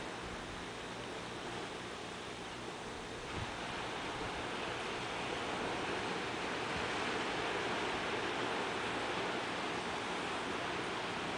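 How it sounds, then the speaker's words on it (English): Ocean surf beside a pathway running down to the sea at a Virgin Gorda villa in the BVI, heard as a steady, broad wash of waves with no voices. "A pathway leading right down to the ocean"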